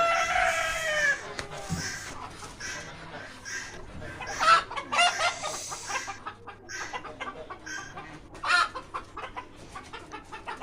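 Native chickens cluck in a rooftop coop shared with ducks and pigeons, with a rooster crowing near the start followed by scattered, uneven clucks and calls at close range.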